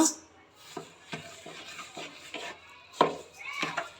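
A spoon scrapes repeatedly through banana halwa with ghee and sugar in a pan, giving soft rhythmic strokes about every half second with one sharper scrape, close and fairly quiet.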